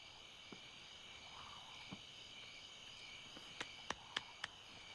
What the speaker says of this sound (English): You hear those crickets?